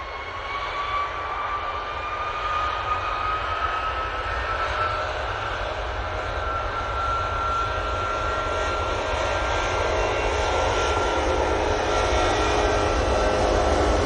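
Jet engines of an Etihad airliner at Manchester Airport give a steady, loud, droning roar with a rising whine running through it, continuous and close, with no voices.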